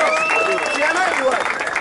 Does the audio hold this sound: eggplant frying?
no